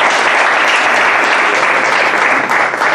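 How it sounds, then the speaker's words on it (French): A church congregation applauds the music group at a Bible institute certification ceremony, loud sustained clapping from a crowd filling the room, with a faint voice underneath. "Je voudrais qu'on acclame le Seigneur pour le groupe musical."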